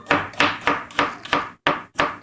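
Fresh garlic chopped into slices on a cutting board, seven crisp, evenly spaced knife strikes in a steady rhythm, close and loud with no talking.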